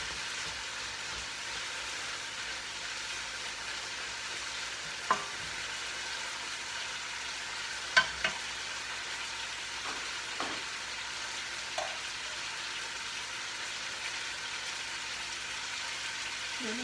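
Bitter gourd (ampalaya) sautéing in a pan, giving a steady, soft hiss of frying with a few clinks of a utensil stirring, heard up close with no talking.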